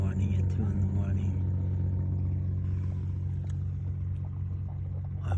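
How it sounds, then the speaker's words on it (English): A boat engine sputters and rumbles steadily at a calm harbor at night, a low continuous drone that holds for several seconds with little change. "I've heard just a little sputtering of one boat out there with its engine running."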